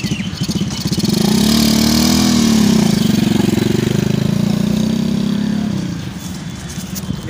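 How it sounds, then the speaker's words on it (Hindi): A small bike starts and runs close by, its engine catching quickly and settling into a steady mid-pitched idle with a brief revving swell before easing back, loud and with no talking. "बाइक स्टार्ट होगी और आप चलते हैं।"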